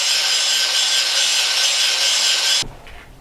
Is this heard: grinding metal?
yes